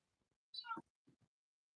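A house cat gives a single drawn-out, rising-then-falling meow close by, followed by two short, faint chirping sounds in an otherwise quiet room.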